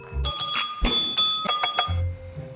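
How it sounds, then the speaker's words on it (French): A small reception desk bell at a campsite welcome desk struck several times, bright metallic dings ringing out in a quick irregular series, close and loud, with a little handling noise between strikes. "Il y a peut-être une petite sonnette sympa."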